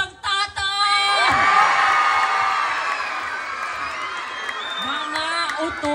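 An audience at a gay beauty pageant erupts into loud clapping, cheering, whoops and shrill shouts, building into a sustained roar of the crowd, with voices calling out over it.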